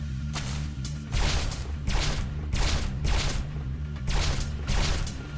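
Repeated heavy booming gunshots, about six, land in a steady rhythm, each a broad crack with deep low-end weight that rumbles between hits, no voices.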